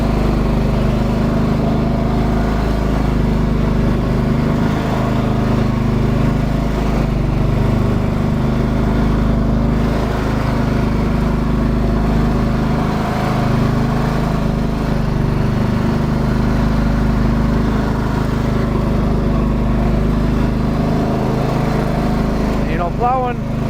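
A 1997 John Deere 325 lawn tractor plows snow with a steady, loud, close engine drone that runs the whole time with no breaks.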